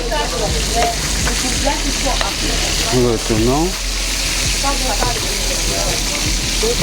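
Fish fillets (capitaine) sizzle steadily in a hot pan after being flipped to brown the second side, a continuous close frying hiss under intermittent voices.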